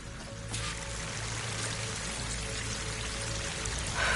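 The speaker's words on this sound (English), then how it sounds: "That waterfall must be coming from somewhere." Waterfall in the video game Horizon Forbidden West, a steady broadband rush of falling water that grows slightly louder partway through, with no voices.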